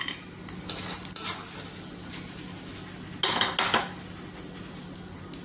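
Hot oil sizzles continuously while peanuts fry and a metal spoon stirs and scrapes the pan in a few short bursts.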